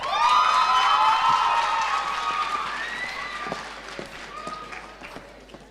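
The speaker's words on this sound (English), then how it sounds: "Can we please give a round of applause to Latoya?" Applause and cheering from an audience at a national ICT summit, a dense wash of clapping with whoops and shouts loudest at the start, then thinning and fading while scattered claps and calls continue.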